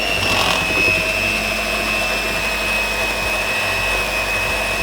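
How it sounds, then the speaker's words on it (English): An electric mixer works vegan cinnamon roll dough, a steady motor whine with a constant tone, loud and close, running alone throughout. "I'm gonna use the mixer because I'm just tired"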